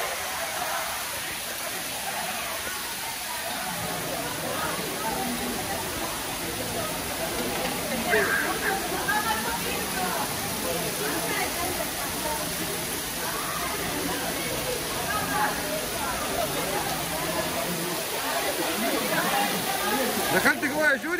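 A moving waterfall water feature at Expo 2020 Dubai pours with a steady broadband hiss and splash, with children playing beneath it and voices talking over the rushing water.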